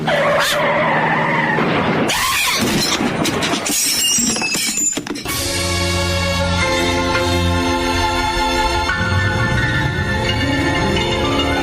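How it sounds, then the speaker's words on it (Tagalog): A car swerving out of control and about to crash in a Filipino TV drama: a harsh burst of tire skidding and engine noise over the first few seconds, then music takes over. "Ay, parang babangga sa amin ang sasakyan!"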